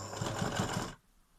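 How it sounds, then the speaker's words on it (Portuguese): A sewing machine stitches around a fabric face mask, a rapid steady mechanical whirring with a pulsing needle rhythm, close and loud for about a second before stopping abruptly. "agora que já estou aqui na máquina de costura novamente, portanto vou despontar a máscara a toda a volta."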